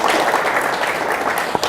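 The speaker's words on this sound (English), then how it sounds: "Let's give her and everyone else a round of applause, please." An audience at a live chamber of commerce community special event breaks into steady, dense applause, many hands clapping together at a moderate distance, with no voices over it.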